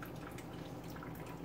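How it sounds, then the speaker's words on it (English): Water pouring into a cooking pot, a quiet steady trickle and splash close by, faint and continuous, with no voices. "see that water is going in there"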